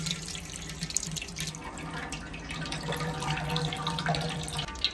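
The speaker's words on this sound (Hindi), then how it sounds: "3 लीटर कुकिंग ऑयल डालेंगे।" Three litres of cooking oil pour steadily into a large pot for a 30 kg batch of Afghani Kabuli pulao, making a continuous, fairly loud liquid rush from start to finish.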